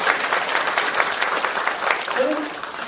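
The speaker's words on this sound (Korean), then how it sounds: "영광의 박수 올려드리십니다" A Baptist church congregation applauds during a 50th anniversary thanksgiving service, a dense, sustained round of clapping at moderate loudness, with a voice briefly audible beneath it near the end.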